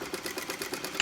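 A sewing machine runs steadily while stitching elastic for lingerie, its needle giving a fast, even, repeating chatter up close, with a brief sharper click near the end and no voices.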